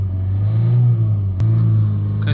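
A Toyota Yaris 1.4 D4D diesel engine with a soot-clogged particulate filter drones steadily at high revs, a loud continuous hum that dips briefly midway before holding up again.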